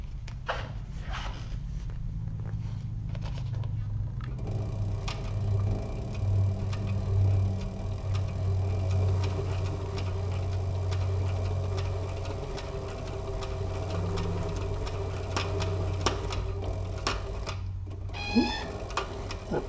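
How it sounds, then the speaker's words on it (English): A sewing machine stitches a crossbody bag in a steady run along a straight seam, its motor humming low with a fast ticking needle rhythm, close and continuous, with brief pauses near the end. "we'll just keep on sewing straight down this line."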